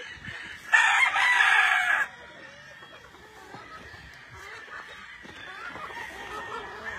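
Quarter-Asil game chickens on a farm: one loud, close rooster crow rings out for about a second, then fades to low clucking and soft farmyard murmur.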